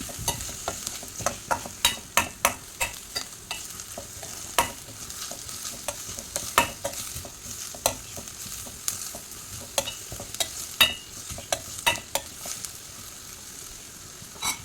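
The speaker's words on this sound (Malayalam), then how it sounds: "ഇനി പച്ചമുളകും ഇടാം നല്ല പോലെ മിക്സാക്കാം" Onion and green chillies stir-fried in a pan for fried rice, with a continuous sizzle under rapid, rhythmic scraping strokes of a spatula, close and clear, no talk.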